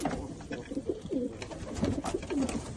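Adult pigeons and their chicks coo in a series of short, close, rolling calls over a quiet background, with no talking.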